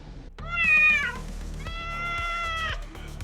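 Cats meowing in a basket in the 1989 film Warlock, two long plaintive meows one after another, loud and close with a faint low background hum.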